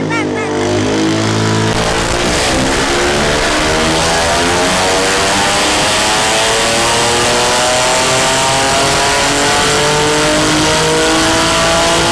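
A tuned car engine on an early engine map revs hard and loud for several seconds, its pitch sweeping upward steadily through the gears in a continuous rising roar, with voices faintly underneath.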